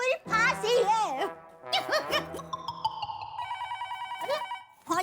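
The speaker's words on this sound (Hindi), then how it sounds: "फोन आया।" A telephone rings with a steady repeating electronic tone in a domestic sitcom scene, following voices and a brief musical sting at the start.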